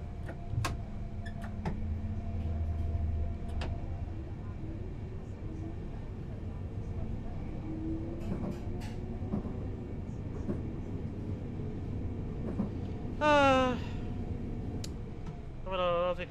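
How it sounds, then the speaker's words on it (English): A Gatwick Express train to Brighton in the video game Train Sim World 3 rolls along with a steady, even rumble, and a short tonal chime sounds near the end. "this is the Gatwick Express train to Brighton"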